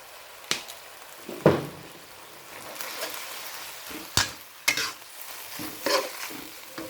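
Minced pork stir-fried in a pan with holy basil leaves and dark soy sauce, a soft constant sizzle broken by sharp scrapes and clacks of a spatula at irregular intervals, close by and with no talking.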